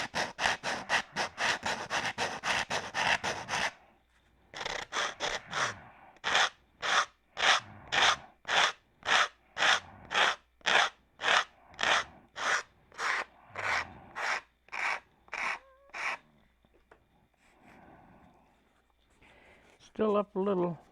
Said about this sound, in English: So I'm going to hold it on here and sand down to the flow.